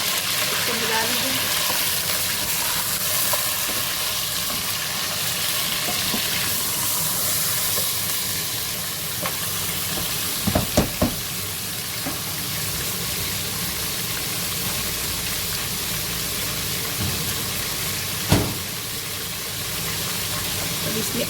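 Meat frying in a pan with spices, a strong steady sizzle and hiss close up, with a few sharp clanks as it is stirred, under a voice speaking throughout.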